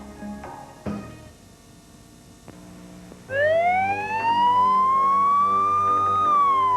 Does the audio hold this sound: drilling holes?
no